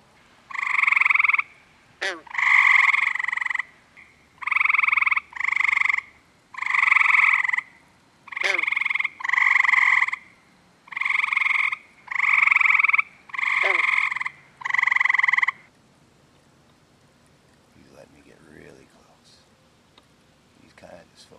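Male green frogs call at night in a loud series of twangy, resonant croaks, about a dozen in a row over fifteen seconds. Near-silence follows, with only faint rustling.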